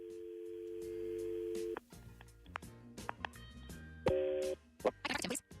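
A steady telephone dial tone, then a series of short electronic beeps and tones as a number is dialed, ending in a brief burst of noise.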